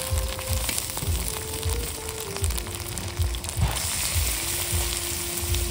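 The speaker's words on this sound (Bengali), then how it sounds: "দেশি স্টাইলে পুরো রান্না মাংস।" Meat cooking country-style in a pot over a clay wood-fired stove, a continuous close sizzle with rhythmic scraping stirs and a thin steady whine running over it.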